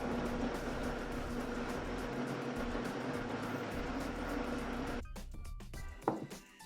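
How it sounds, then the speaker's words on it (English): Blender running steadily on a beet greens smoothie, a loud continuous whir that stops abruptly near the end, followed by a few clinks and handling noises. "let's blend the smoothie and see how it comes out"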